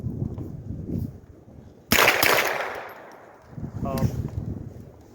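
Rifle fitted with a Blast Forward muzzle brake, shooting .22LR or .223 at night, one sharp loud report followed by a decaying echo, with a fainter second shot near the end and low rumbling noise in between.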